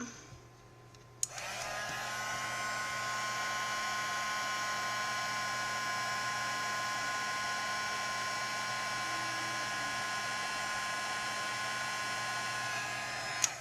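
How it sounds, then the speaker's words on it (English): A heat tool switches on with a click and blows a steady, loud whooshing hum while warming a soda-can tab flower petal, clicking off at the end. "take your heat tool, which I'm going to do for just one petal right there, and heat it up"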